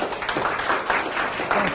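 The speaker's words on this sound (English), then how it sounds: "let's give Chuck and David a round of applause." An audience at a health care meeting gives a round of applause, a moderate, continuous patter of clapping from a room full of people, slightly distant.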